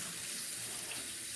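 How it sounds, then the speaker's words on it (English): A Japanese natural whetstone is rinsed under a running tap, a steady close hiss of water splashing in a sink throughout the short moment. "I'm gonna rinse out the stone once again."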